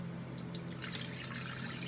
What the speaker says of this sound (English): I'm gonna go ahead and pour the akamu into the oil.